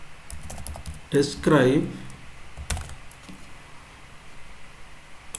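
Computer keyboard typing while Angular unit test code is written, a run of quick, light key clicks across the clip, with someone speaking briefly in the middle.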